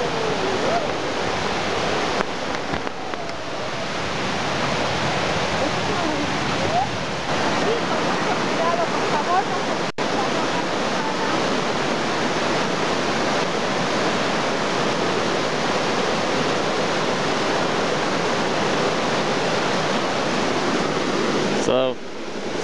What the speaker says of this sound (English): Here we're coming down to a waterfall.